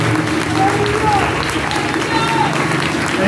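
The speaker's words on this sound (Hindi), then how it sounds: "जोरदार तालियों में पाकिस्तान के लिए।" A church congregation at a healing prayer service claps loudly and continuously, a dense roar of applause mixed with crowd voices and a faint tonal sound running underneath.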